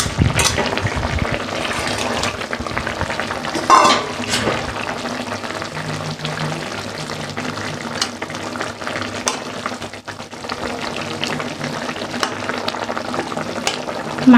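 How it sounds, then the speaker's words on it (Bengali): Pieces of fish go into a bubbling gravy in a home kitchen, giving a loud, steady sizzle and frying hiss with scraping stirs and a sharper clatter early on. "দেখো গ্রেভিটা ফুটে গেছে আমি মাছগুলো দিয়ে দিচ্ছি"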